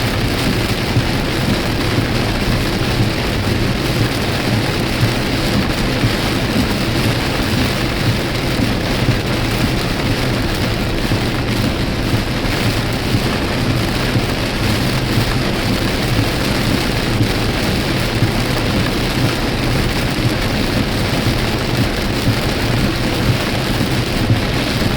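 Heavy rain drums steadily on a Tesla car during a thunderstorm, with thunder rumbling underneath throughout, loud and continuous without a break.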